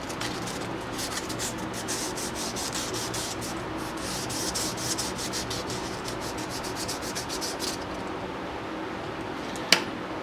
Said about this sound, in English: I'm going to sand this with 320